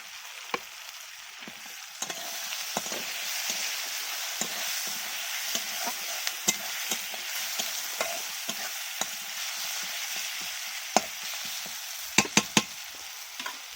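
Tomatoes frying with browned onions in a pan, a steady soft sizzle throughout with repeated sharp scrapes and taps of a spoon stirring against the metal, heard close with no voices.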